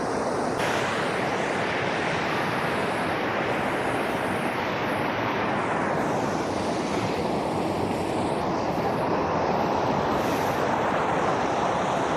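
Loud, steady rush of a waterfall and river in a Himachal village fills the whole clip, a dense broadband roar with no pauses and no voices.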